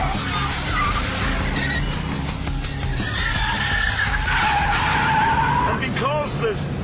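Fat tyres on a Dodge Viper SRT-10 squeal as they lose grip, giving a loud, sustained skid over engine roar with wavering pitch, while a voice talks over it.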